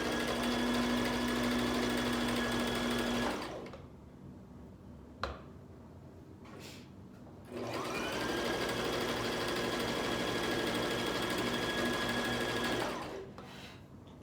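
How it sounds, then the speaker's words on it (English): A sewing machine stitches and zigzags fabric panels for an A-line overgarment in two long, steady runs with a whining motor hum, separated by a pause holding a single small click, close and without talk. "We're going to sew it down, then we're going to zigzag it down"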